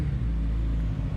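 A 2006 Yamaha FZ1 motorcycle engine runs at high revs, a loud, steady, close mechanical roar held without a break.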